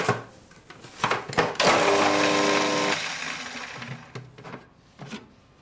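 Food processor blitzing garlic and roughly snipped spring onions for prawn cakes: a loud, steady whirring burst of a couple of seconds that tapers off, framed by a few sharp knocks and clatters.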